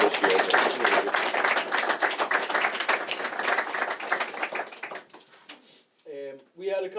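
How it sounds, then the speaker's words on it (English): A crowd applauds at a Scottish Drift Championship gathering, dense continuous clapping for about five seconds before thinning out, followed by a voice speaking. "Give yourselves a round of applause."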